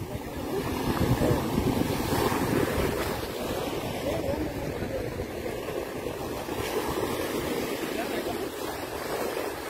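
Sea waves at the shore make a continuous broad roar of surf, with wind buffeting the microphone throughout at a steady, fairly loud level.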